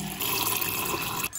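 Water runs steadily from a tap into a tall glass, a continuous close hiss and splash that stops abruptly near the end.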